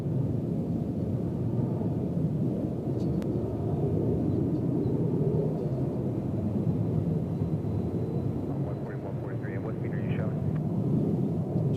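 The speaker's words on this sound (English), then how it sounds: "Taking off on the center runway" A Prime Air jet taking off from the center runway at Cincinnati CVG gives a steady, broad, roaring rumble at a distance, holding constant throughout with faint voices in the background.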